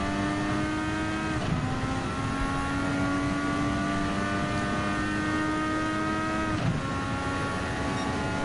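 Race cars roar in Gran Turismo 7, an Alfa Romeo 155 2.5 V6 TI and a Peugeot 205 Turbo 16 Evolution 2 among them, holding a steady loud engine drone with two gear-shift dips, alone and close.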